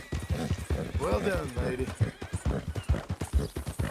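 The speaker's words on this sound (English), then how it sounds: "Nice filly. Who's a good horse?" Horse hooves clip-clop in a steady rhythm close by in the open-world western game Red Dead Redemption 2, with a drawn-out whinny rising midway; someone speaks briefly over the hoofbeats.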